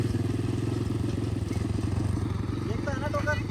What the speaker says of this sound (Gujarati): એટીવી અત્યારે એટીવી બાઇક ચલાવી રહ્યો છે